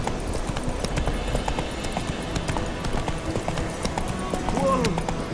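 The horse Roach gallops in The Witcher 3 Wild Hunt on mobile, with fast, continuous, close hoofbeats in a driving rhythm under voices and busy game sounds.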